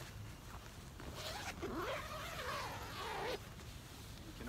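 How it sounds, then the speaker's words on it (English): A zipper is pulled open in one steady run lasting about two seconds, close by, with a soft rustle before and after in a quiet setting. "You can open the zipper here"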